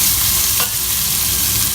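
Chopped red onion sizzling loudly in a pan while being stirred, a dense continuous hiss with a brief scrape of the spoon partway through, close and without voices.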